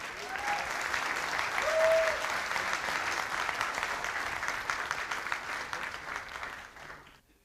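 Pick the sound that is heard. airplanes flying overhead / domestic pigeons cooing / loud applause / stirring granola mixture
loud applause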